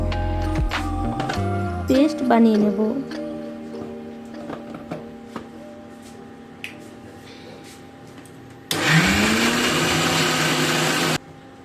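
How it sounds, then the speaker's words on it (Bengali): Chopped onion blended in a small mixer grinder jar: after quieter clattering and a faint whine, the motor kicks in with a loud, steady roaring whir for a few seconds, then cuts off. "এবার পেঁয়াজটাকে ছোট মিক্সি জারের মধ্যে দিয়ে"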